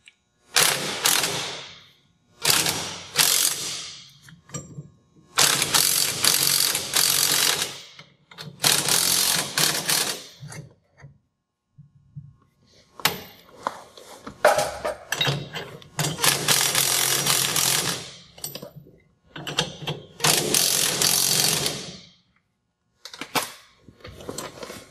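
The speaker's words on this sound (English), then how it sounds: "We're now going to tighten the bracket in this position." A ratchet tightens a swing arm bracket on a 2014-or-newer Dodge Ram 2500/3500 during a Track N Go coil kit install: repeated close bursts of rapid mechanical clicking, each lasting one to two seconds, separated by short pauses.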